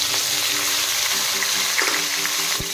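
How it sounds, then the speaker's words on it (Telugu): Onions and green chillies frying in hot oil, a dense close sizzle throughout with a few soft stirring knocks near the end, no voices. "పచ్చిమిర్చి ఉల్లిపాయ యాడ్ చేద్దాం."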